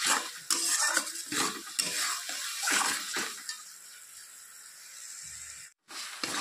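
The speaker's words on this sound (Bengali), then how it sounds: "এখন এটাকে ভালো করে কষিয়ে নেব।" Egg curry masala with tomato is stirred and sautéed in a pan, giving a run of quick scraping and clinking spatula strokes that fades into a soft, quieter hiss before a brief final scrape.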